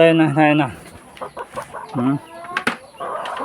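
Backyard chickens cluck close by in quick, rising and falling calls, a few sharp squawks scattered among them.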